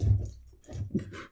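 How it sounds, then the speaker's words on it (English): A dog whimpers in short, soft, whiny bursts close to the listener, with quiet gaps between them. "Dog's back."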